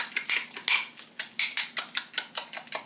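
A utensil scrapes and clinks rhythmically against a bowl while sour cream is stirred into homemade guacamole, a steady series of close, bright strokes about four per second with no talking.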